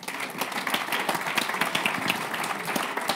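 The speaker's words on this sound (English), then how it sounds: "let us please give all of our panelists a very warm round of applause" At a banking supervision forum, the audience gives the discussion panelists a warm round of applause: continuous crowd clapping, moderately distant and fairly soft, holding steady throughout.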